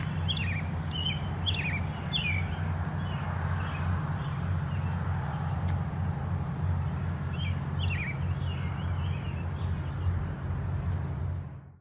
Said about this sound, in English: These American robins are commonplace at the UT Gardens.